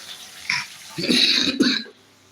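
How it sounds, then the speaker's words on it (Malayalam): A close, harsh cough: a short rasp, then a longer rough, chesty burst before it fades to quiet. "ചുമയൊക്കെ പിടിച്ചു"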